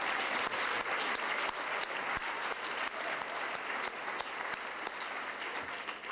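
Warm applause for teachers and school staff at a foundation dinner, a continuous full-room clapping with scattered sharper claps standing out, steady throughout.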